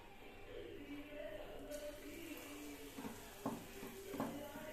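Nendran banana balls fry in hot oil with a faint, steady sizzling hiss, joined near the end by a few light clinks of a utensil against the pan.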